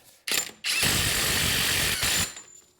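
Ratchet on the wheel hub spindle nut of a 2002-2007 Jeep Liberty, one short click burst followed by a long steady rapid clicking run that pauses briefly near the end, close and alone.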